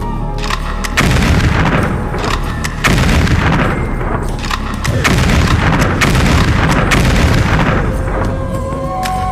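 Gunshots fired toward Puente Llaguno during the Caracas massacre, a dense, loud run of cracking reports and booms that repeats irregularly across the whole stretch, with echoing rumble between shots and no speech.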